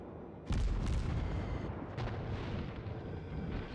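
Naval artillery fires in the World of Warships game as a cruiser lobs shells in a loud, deep boom followed by a second salvo, with rumbling echoes between the blasts.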